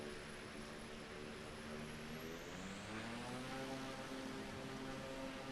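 A simulated airplane engine in Microsoft Flight Simulator runs at full throttle, producing a loud, steady drone whose layered tones climb in pitch midway and then hold, with no voices.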